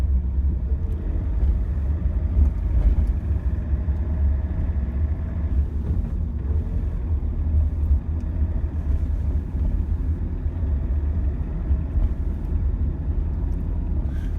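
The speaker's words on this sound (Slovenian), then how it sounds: "tu mestni avtobus, urban, ki vozi med centrom mesta in pa med gradom" A city bus drives past near a castle road tunnel, giving a continuous low engine rumble and road noise at moderate loudness with no talking.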